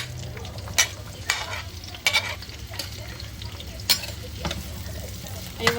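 Onion and ginger sizzle and fry in a pan, with steady crackling broken by several sharp stirring scrapes, close and fairly quiet, with no talking.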